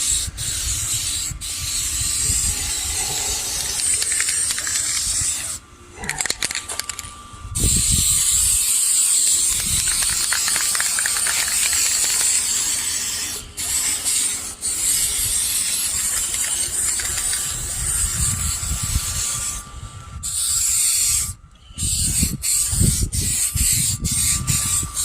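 Aerosol spray paint can hissing in repeated bursts over a Honda Civic engine bay, close and fairly loud, with short pauses and a rattling can between passes.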